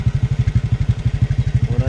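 Steady, rapid low-pitched thudding of a Honda XR150 motorcycle engine idling nearby, loud and regular throughout, with no talking.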